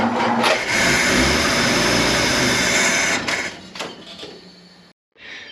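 A 1941 Studebaker engine cranks and catches on choke with a steady mechanical churn. The sound eases and sputters after about three seconds, then cuts off into brief silence before a short burst returns.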